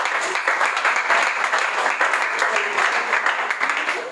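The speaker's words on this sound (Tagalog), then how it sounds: "So, palakpak sa Panginoon." Church congregation clapping together in praise during a sermon, a moderately loud, continuous wash of hands that holds steady before easing off at the end.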